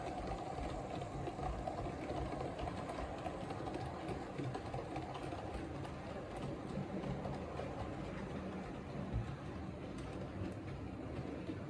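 A Lima Golden Series model train locomotive with a faulty motor runs around a toy track, giving a steady, close whirring rumble that holds level throughout with no talking.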